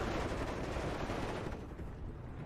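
Mortar fire in the strategy game WARNO, a dense, continuous barrage of overlapping booms and crackling blasts, steady and fairly distant with no pauses.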